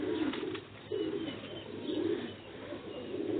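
Pigeons and Sialkoti quail kept for sale call close by. Soft, repeated coos pulse at a steady rhythm with no talk over them.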